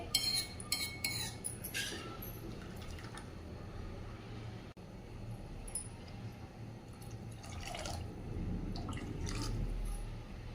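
Stock splashes and pours into a pot of lemon coriander soup among clinks of utensils, then a steady filling sound building toward the end.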